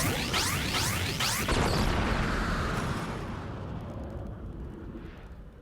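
Heat Wave Cannon attack in the video game Blox Fruits: a loud, rumbling explosive burst with quick crackling pops at the start, then a long roaring wash that gradually fades.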